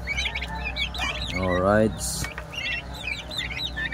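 Young turkeys about two months old kept together with chickens, giving repeated high chirps and peeps throughout, near and moderately loud, with someone talking briefly in the middle.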